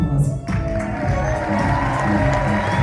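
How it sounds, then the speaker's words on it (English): A concert crowd cheers and applauds band members, a steady dense roar of clapping and shouting that holds throughout. "Please give my brothers a round of applause."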